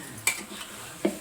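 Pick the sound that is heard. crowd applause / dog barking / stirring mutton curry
stirring mutton curry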